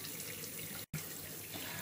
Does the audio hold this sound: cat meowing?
no